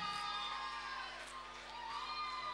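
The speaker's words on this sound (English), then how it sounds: "I think he deserves a round of applause" Crowd at an HG Entertainments Asia Band Aid show cheering and whooping for a performer, loud shouts and cheers over steady sustained tones, continuous throughout.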